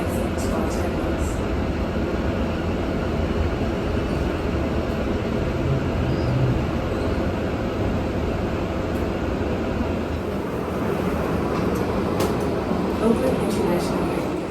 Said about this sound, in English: This train is approaching Oakland International Airport